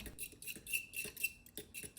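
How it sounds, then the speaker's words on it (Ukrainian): Two eggs whisked with milk in a bowl for a stuffed lavash envelope recipe, a fast rhythmic clatter of the whisk against the bowl, close and steady, with no talking. "Далі беремо два яйця і молоко. Все збиваємо."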